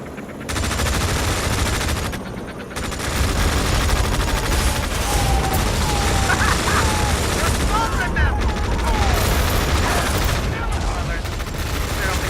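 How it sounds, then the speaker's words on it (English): Sustained machine-gun and rifle fire with booming artillery in the Tom Clancy's EndWar game, a loud continuous battle roar with a brief lull early on, plus short radio-style voice chatter mixed in. "We're opening fire. Artillery fire on our position."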